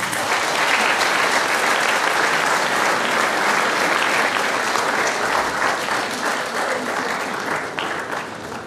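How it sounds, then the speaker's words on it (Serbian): An audience at a film premiere in Loznica applauds steadily and loudly, a dense, sustained wash of clapping from many hands that eases slightly toward the end. "Pozdravite velikim aplauzom Milana Petkovića."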